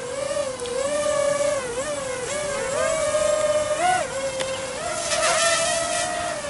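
Hobbymate X160 3S quadcopter drone with its propellers whining in flight, a buzzing pitch that rises and dips with each throttle change, steady and close throughout.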